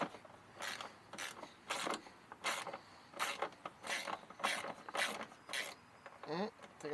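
A hand ratchet clicks in about ten quick, rhythmic bursts while bolts on Jeep Wrangler fenders are worked, each stroke a close, crisp run of pawl clicks with a brief scraping sound near the end.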